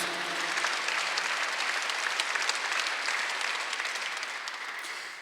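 A church congregation claps during a Sunday worship sermon, a full, continuous burst of many hands at close range that stays even and then fades slightly at the end.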